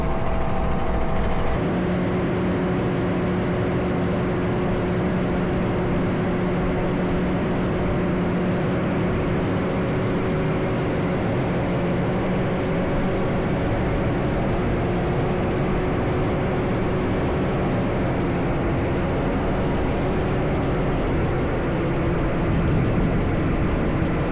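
A vehicle engine idles steadily just after startup, slightly rough at first, giving a continuous low drone with a constant hum that holds unchanged throughout, no talking over it.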